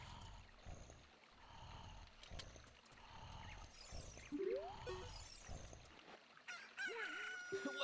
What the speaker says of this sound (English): Look, a chicken hatched from the egg.